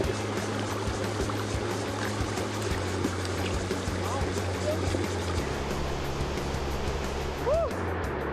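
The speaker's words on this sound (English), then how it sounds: "The water is pretty swift today, so make sure you watch your step and stay safe." Swift river water rushes over a rocky creek on a river-tracing trek along the East Coast of Taitung, a steady close roar of flowing water throughout, with a faint brief voice near the end.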